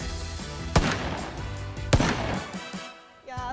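R1A revolver shots in PUBG, two loud sharp cracks about a second apart, each trailing off into a rolling echo, with background music underneath and a brief voice near the end.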